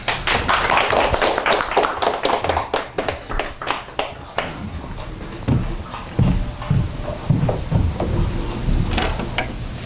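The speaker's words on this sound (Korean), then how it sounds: "박수로 모시겠습니다" Scattered clapping from a small audience greeting a speaker at a Korean patriotic groups' press statement, sharp separate claps for about four seconds, then quieter shuffling and knocking sounds with a few late claps.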